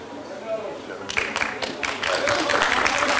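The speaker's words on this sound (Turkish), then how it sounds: "Alkışlar." Crowd applause at the Trabzon Days outdoor stage concert, starting about a second in with a few sharp individual claps that swell into dense, continuous clapping from the audience, with some voices underneath.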